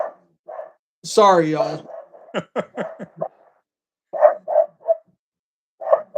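A dog barks in short, sharp bursts, clustered near and loud, with a longer yelping stretch early on, in a wooded setting; someone talks briefly in between.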